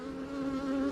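Calm honey bees at a hive during a nectar dearth, a continuous close, even buzzing drone with no talk.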